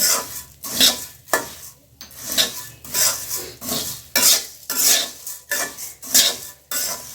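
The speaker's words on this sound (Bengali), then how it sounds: "এটা এভাবেই নাড়তে থাকতে হবে, না হলে মুড়িগুলো পুড়ে যাবে" Puffed rice (muri) being stirred with onions and a little sugar in a pan, a spoon scraping and rattling in steady repeated strokes roughly every half second, dry and crisp, close up with no voices.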